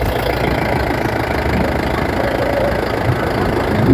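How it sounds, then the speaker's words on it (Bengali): A Mahindra Big Bolero pickup with a line-pump diesel engine idles close by, a loud, steady low rumble with fine knocking texture and no pauses, no voices over it. "ইঞ্জিনের সাউন্ডটি আপনারা শুনুন"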